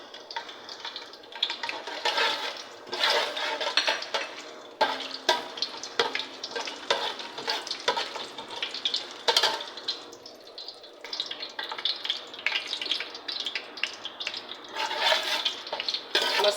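Whole spices dropped into about a cup of hot oil for a rice pilaf, giving a steady loud sizzle and crackle with stirring scrapes throughout and no talking.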